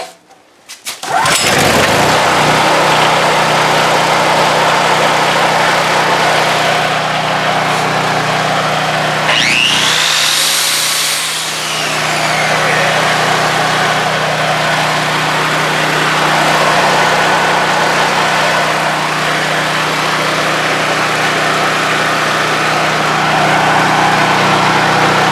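A circular saw powered by a generator spins up and runs loud and steady for a long stretch, with a rising whine near the middle over a continuous low engine drone.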